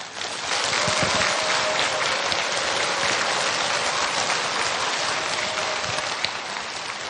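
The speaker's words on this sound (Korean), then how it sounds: "큰 박수로 맞아주세요." Audience applause welcoming a psychiatrist and brain scientist to the stage for a special lecture on happiness, rising quickly into sustained, even clapping that holds steady for several seconds.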